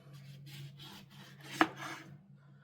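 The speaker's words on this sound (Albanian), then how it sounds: "Portokallin e presim në gjysëm." A knife slices an orange in half on a kitchen counter, with soft rasping strokes through the peel and flesh and one sharp tap as the blade strikes the board.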